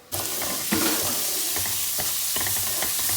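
Rice toasts in a hot pan with a constant close sizzle, while a utensil stirs it in soft scraping strokes that recur every second or so, with no voices.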